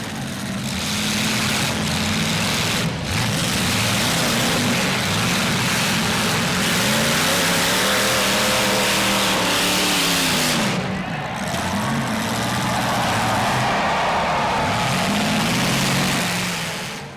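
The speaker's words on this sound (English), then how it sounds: "the Demolition Derby, where more than a dozen drivers were on a search and destroy mission to inflict as much damage as possible" Demolition derby cars roar and rev continuously in an arena as more than a dozen drivers try to knock each other out, engines loud and steady throughout with crowd and event noise around them.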